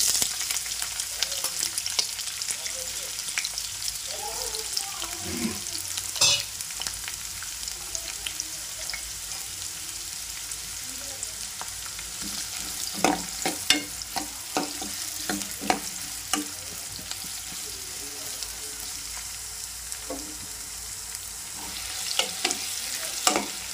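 Sliced onion and two green chillies frying in a pan, a steady soft sizzle with occasional stirring scrapes and crackles throughout, no voices.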